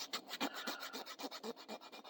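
Close, steady rasping of a small file worked back and forth to scrape dried glue off a fingertip, about a dozen quick even strokes with no talk.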